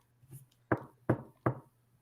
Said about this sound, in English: I will knock on it then